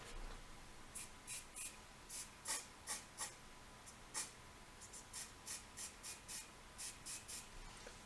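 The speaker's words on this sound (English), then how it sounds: "now I will use the activator" Activator sprayed from a can onto a Messerschmitt Me 262 A-1a model plane gives a quick run of short, sharp hissing spritzes in a fairly steady rhythm, close and quiet.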